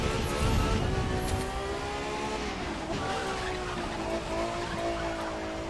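Touring car in the racing game The Crew 2, a sustained engine whine with steady harmonic pitch lines and some tire noise at the start, loud and close, with faint talk underneath.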